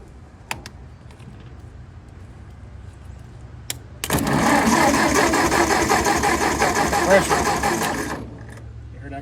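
A Ford 600 tractor engine cranks over for about four seconds in a loud, steady churning burst after a quiet stretch with a few clicks, then stops without catching.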